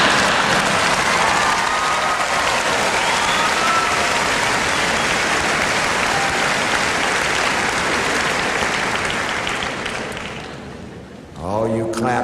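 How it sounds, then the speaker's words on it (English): Commencement audience at the University of Maine's 2005 ceremony bursts into sustained, dense applause that fills nearly the whole stretch before thinning out, with a speaker's voice returning at the very end. "Oh, you clap now"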